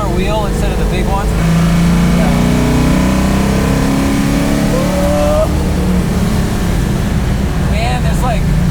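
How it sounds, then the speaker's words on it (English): Engine of a 1969 Chevelle rumbles steadily and loudly from inside the cabin while the car drives, a constant low drone throughout with people talking over it. "It's like the sound of the engine"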